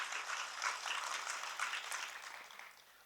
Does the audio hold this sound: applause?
yes